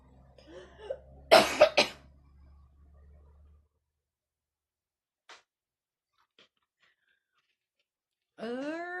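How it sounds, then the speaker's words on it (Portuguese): A burst of two or three harsh, close coughs, then near silence with faint clicks before a voice starts speaking. "Eu vou parar de tossir na cara de vocês"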